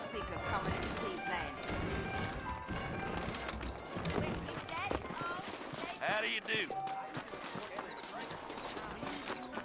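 Horse hooves clip-clop in Red Dead Redemption as saddled horses wait out front, light irregular hoof knocks mixed with game sounds beneath a man's spoken greeting.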